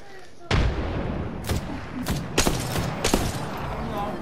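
A frag grenade explodes in Apex Legends with a sudden heavy boom, followed by several sharp gunshot cracks and rumbling impacts over continuous game noise and players' voices.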